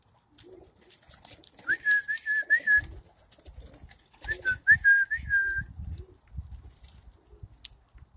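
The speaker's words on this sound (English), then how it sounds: "Come on, birdies, come on." Young pigeons at a loft coo low and repeatedly, close by, while a person whistles in short bursts to call them, and soft wing flutters and rustling come in between.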